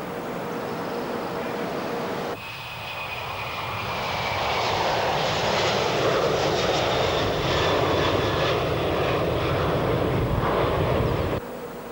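Boeing 747-400 jet engines running, a loud, steady roar with a whining high tone that starts abruptly, swells and holds for several seconds before cutting off, with no voices.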